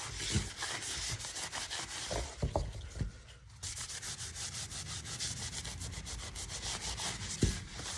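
Natural wax is rubbed onto a thrifted wooden frame with steady, rapid back-and-forth scraping strokes, close and fairly loud, briefly pausing near the middle before resuming.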